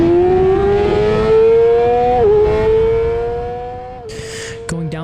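A racing motorcycle on track at the Podium Club accelerates hard down the straight, engine note climbing steadily through gears in a loud, close whine before easing off near the end.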